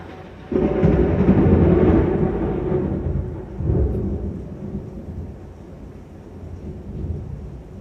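A heavy thunderclap booms in suddenly and rolls on, fading through low rumbles with a second swell of thunder partway through and rain hiss underneath.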